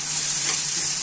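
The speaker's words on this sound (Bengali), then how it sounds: "এখানে দিয়ে দিলেন ডিম অমলেটটা তাওয়াতে, ডবল ডিমের অমলেট।" A double-egg omelette sizzles steadily on a hot griddle, a loud, close, continuous frying hiss with no speech.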